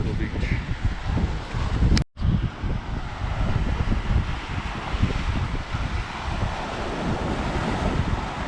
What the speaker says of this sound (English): Just want to watch one more wave, always want to watch one more wave.